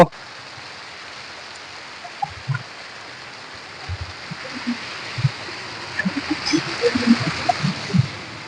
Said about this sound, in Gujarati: અત્યારે ધીમો ધીમો મજરો વરસાદ શરૂ છે